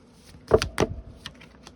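A tarot card deck is shuffled by hand, with two quick, close papery riffles and a couple of fainter card flicks afterward.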